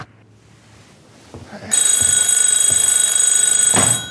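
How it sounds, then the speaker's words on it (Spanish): A telephone bell starts ringing with a loud, steady electric trill after a couple of seconds of quiet, with a soft thump near the end. "Doris, teléfono."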